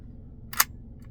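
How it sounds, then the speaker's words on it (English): A single quick mechanical click of the shutter on a Perfex Forty Four camera, close and crisp against a quiet room, followed by a faint second tick. "so our shutter seems to work"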